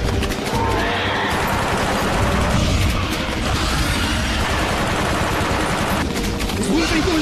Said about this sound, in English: Stop praying and start shooting.